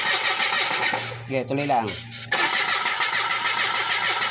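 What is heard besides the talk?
Mitsubishi car engine starting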